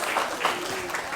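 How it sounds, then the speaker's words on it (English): Audience at a science week event clapping for a volunteer in a short burst of applause, with a voice briefly audible underneath. "big round of applause for volunteer number 2"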